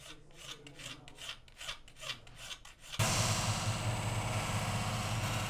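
A hand file rasps across a rough horn piece in an artisan's workshop, first in slow separate strokes, then in a dense continuous grating that grows louder and closer.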